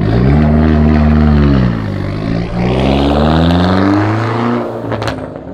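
A loud car roaring past up close, its engine drone falling in pitch and then rising again as it accelerates away.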